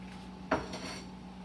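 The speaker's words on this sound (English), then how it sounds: "we're gonna get ladle and scoop out our food" A ladle scraping and knocking against a pot of black rice ramen noodle soup, one brief clink followed by faint rattling, close but quiet against a steady kitchen hum.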